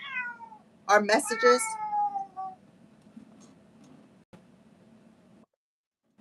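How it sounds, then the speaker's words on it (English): A cat meows close by, a drawn-out call followed by a brief burst of speech, then a quiet hum with faint rustles. "That was my cat, by the way."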